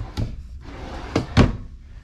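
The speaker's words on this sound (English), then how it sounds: "Nice pull-out drawer, full-sized." A full-sized pull-out drawer in the kitchen of a 2022 Jayco Jay Flight 224BH travel trailer, giving a few close, quick thumps and slides as it is worked open and shut.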